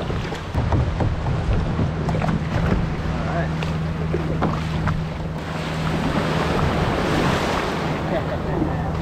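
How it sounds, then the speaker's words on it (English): Waves slap and splash continuously against a budget fishing kayak out on open water as a storm approaches, with wind rushing over a steady low rumble, close and loud throughout. "Obviously it handles the waves very good head on."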